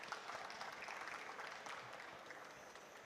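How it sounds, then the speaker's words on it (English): Audience at the Africa Pavilion at COP27 giving a round of applause after a presentation, a faint, even patter of clapping hands heard from a distance across the whole stretch, with no voices over it. "Can we give another round of applause,"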